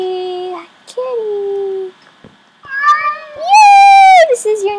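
A cat meows repeatedly up close, with several rising and falling cries, the last ones long and loud, mixed with short vocal sounds.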